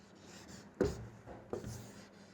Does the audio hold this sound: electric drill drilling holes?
no